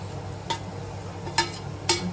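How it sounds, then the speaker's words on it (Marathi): Minced mutton kheema frying in a hot pan, a steady close sizzle broken by three distinct stirring scrapes at even intervals. "आता आपण त्याच्यात टाकतोय खीमा."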